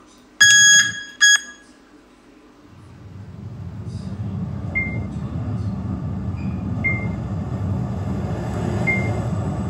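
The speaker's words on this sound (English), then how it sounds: "Alarm test." A Schindler 5500 lift's alarm test gives two short, loud electronic tones, then the car's steady low motor rumble rises and continues with faint occasional beeps.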